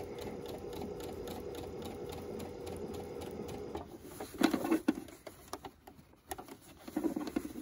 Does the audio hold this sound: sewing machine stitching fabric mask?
yes